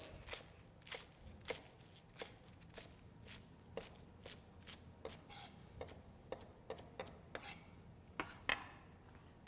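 Stemmed kale is chopped with a knife on a cutting board, about twenty crisp thuds in an uneven rhythm, close and fairly quiet, no talking.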